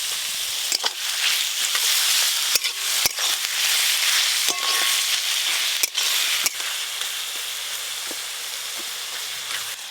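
Chopped onion with ginger-garlic paste frying in a pan for chicken curry, a steady close hiss of oil with sharp clinks and scrapes of a spatula stirring at irregular intervals.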